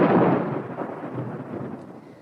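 Thunder rolls in a stormy night scene, a deep rumbling crack that peaks at once and then fades into a long, diminishing grumble.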